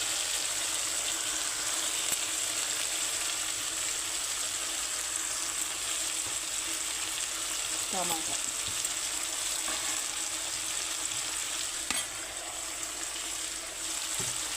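Tomatoes fry in a pan with a steady, loud, continuous sizzle that fills the whole stretch, broken only by a few faint clinks and scrapes from stirring.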